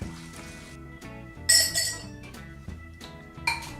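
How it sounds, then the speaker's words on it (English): A mint cocktail is stirred with crushed ice in a glass, giving a soft, regular ice clink and chink with a few brighter rattles, under quiet background music. "Stir, stir, stir until you get frost on the outside of the glass."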